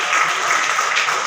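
Guests are welcomed with applause at an Ambedkar Bar Association event in Agra, a brief burst of steady, dense clapping from the gathered audience.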